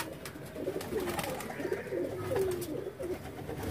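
Soft, low cooing of a yellow-eyed pigeon repeats over a steady background hum, fairly close and gentle.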